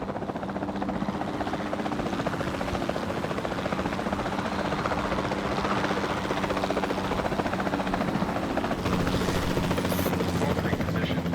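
A capture team helicopter in the video game Jurassic World 2 drones steadily with a rapid rotor thump and engine whine, loud and constant, with voices speaking over it.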